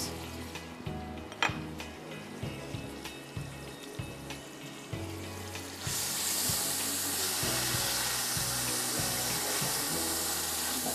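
Tomatoes and red onions fry in a pan for Peshawari mutton pulao, a steady close sizzle broken by scraping and clinks, swelling into a louder, even hiss halfway through.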